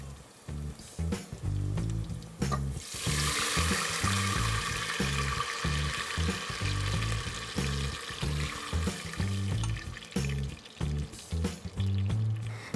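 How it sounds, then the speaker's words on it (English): Water boils in a pan for ghee khichdi with whole pepper, chilies, ginger and curry leaves, a close, continuous bubbling and hissing with rhythmic low pops. "The water is boiling."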